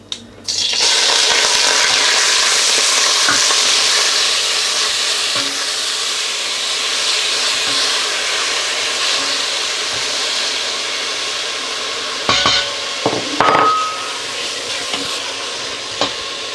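Onions frying in hot oil in a pot for an aubergine and potato curry, a steady loud broadband sizzle that holds throughout, with a few brief utensil clinks and scrapes near the end.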